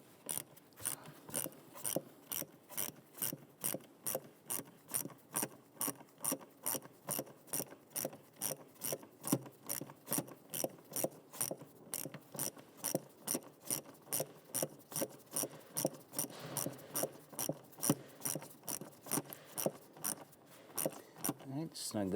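A flathead screwdriver tightening hose clamps on a Jeep Grand Cherokee engine, producing steady rapid repeated ratcheting clicks, close and fairly even, continuing for a long stretch with occasional softer handling noise.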